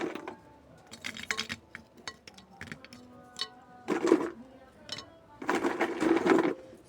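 A shard of brick is set into a clay plant pot during repotting, giving short clattering scrapes and knocks in separate bursts, close by, with a louder rattling run near the end.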